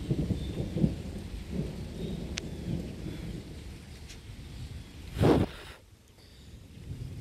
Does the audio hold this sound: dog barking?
no